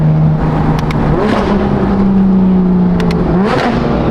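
A built-motor BMW M4 making 900 horsepower, fitted with a lighter flywheel, revs sharply a few times, its loud engine note climbing and dropping quickly up close, with no voices.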